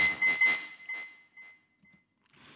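A short electronic beep through Ableton's Filter Delay default preset repeats in fading echoes, each copy quieter than the last, trailing off into near silence.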